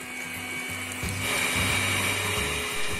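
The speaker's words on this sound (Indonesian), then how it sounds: "ini sekarang kita mixer dulu ya hingga mengembang" An electric mixer beats egg batter with vanilla paste for a sponge cake, a steady motor whir with a pulsing low hum that rises slightly as the beaters work through the thickening mixture.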